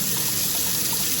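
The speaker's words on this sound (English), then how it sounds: "You put some cold water in" Cold water runs from a kitchen tap in a steady, close hiss and splash, unbroken for the whole moment with no voices.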